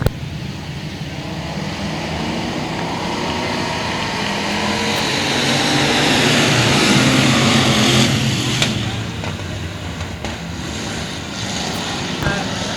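Factory stock race cars in a heat race on a track roar past together in a dense, continuous engine drone that swells louder midway, then eases back to a steady rumble.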